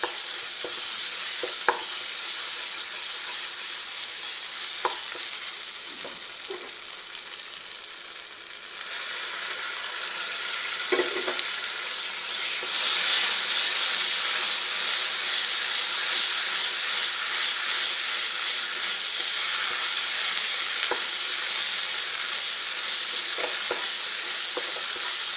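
Brinjal pieces sizzle steadily in oily masala for kathirikai kulambu, with a continuous hissing fry broken by occasional sharp clicks and scrapes of a spoon stirring the pan; no voices, close and fairly even in loudness throughout.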